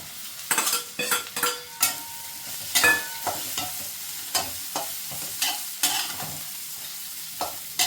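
Finely chopped ridge gourd tipped into a pan with lentils and stirred, bursts of spoon scraping and clatter against the pan over a steady light sizzle, fairly close and busy throughout.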